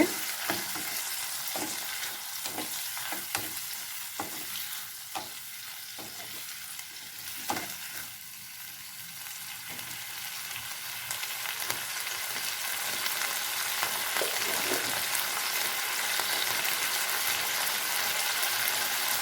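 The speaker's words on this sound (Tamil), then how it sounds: "தக்காளி வந்து நல்லா பச்சை வாசம் போகிற அளவுக்கு நல்லா வணக்கிடுங்க" Tomatoes sautéing in a pan for coriander chutney give a continuous bright sizzle with intermittent soft stirring taps and scrapes, no one speaking.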